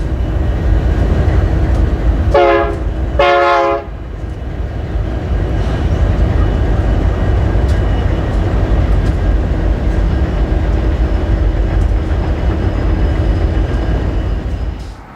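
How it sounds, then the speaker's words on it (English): A Union Pacific or BNSF coal train rolls past in the Powder River Basin, a loud, steady rumble of engines and wagons with two short blasts of the horn near the start. "Our attention is once again drawn to the tracks as a train comes roaring by."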